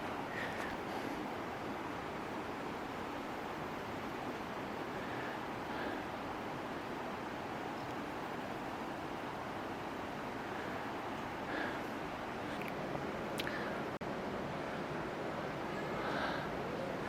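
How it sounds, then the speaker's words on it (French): A river flowing steadily in the mountains in August, a constant soft, broadband rush that stays even and fairly faint throughout, with no voices. "Vous entendez la rivière couler"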